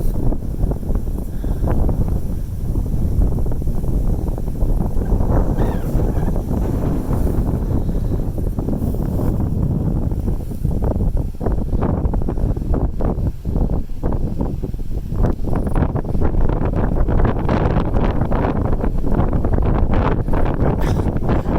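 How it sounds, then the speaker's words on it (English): Strong wind gusts across a mountain top and batters the microphone, making a loud, continuous roaring rumble with rough, uneven surges for the whole stretch. "The wind up here is crazy"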